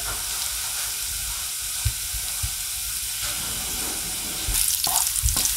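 Garlic browning in a pan for veg momos filling, a steady close sizzle throughout with a few soft clinks of a stirring spoon and a louder crackle near the end.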